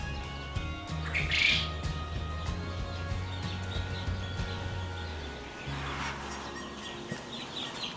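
Quail kept in an indoor brooder room give sharp squawks and chirps, with one louder call early on, over a steady low hum of room equipment.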